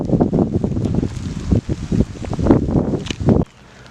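Wind picks up outdoors in a residential park area during an ice storm, a rough buffeting rush with gusty rustling against the microphone that stays loud for several seconds before dropping off abruptly.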